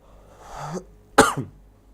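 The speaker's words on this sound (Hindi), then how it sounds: "देखिए आज खांसी जरा जरा आ रही है" A single hoarse cough bursts out close and loud, preceded by a softer throat sound, during a classroom-style lesson, then quiet.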